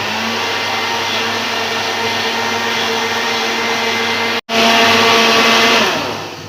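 A blender mixes crepe batter with a loud, steady whir. The motor cuts out for an instant and then starts again at full strength.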